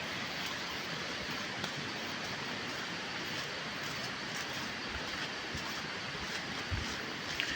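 Jatiapat waterfall, hidden in forest in Keonjhar, sends up a constant broadband rush of falling water, with a few soft low thumps.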